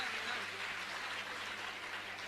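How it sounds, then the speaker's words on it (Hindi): An audience claps in a large gathering hall, with dense, steady applause forming a continuous rain-like texture that holds evenly throughout. "दोनों हाथ ऊपर उठा करके जोरदार तालियां बजानी चाहिए हम सबको"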